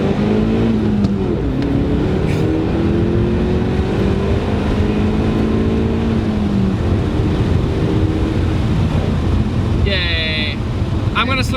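First-generation DSM Eclipse GSX car driving, its engine a loud, steady drone with harmonics rising and falling through the gears, joined near the end by a brief high whine. A voice talks over it.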